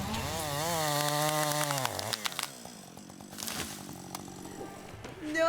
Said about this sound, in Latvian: rekur ar zāģi darbojās